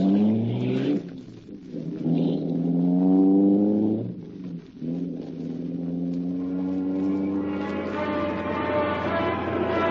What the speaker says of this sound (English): The great car roared into life.